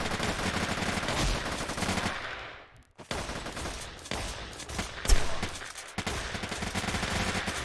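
Sniper rifle gunfire in a video game, a dense run of rapid shots that drops out briefly, then returns with sharp individual cracks and another sustained burst.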